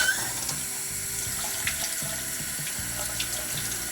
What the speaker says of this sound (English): I'll run some water over that.